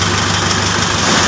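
A Mitsubishi L300 Versa van with a hard-starting problem and a faulty heater controller idles with a loud, close, steady engine hum and rumble. No one speaks.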